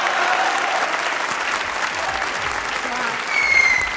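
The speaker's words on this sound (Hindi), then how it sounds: "तालियां होनी चाहिए।" Studio audience applause on a Pakistani comedy talk show with cricketer Abdul Razzaq as guest: a full crowd clapping steadily, swelling slightly louder near the end, with faint voices underneath.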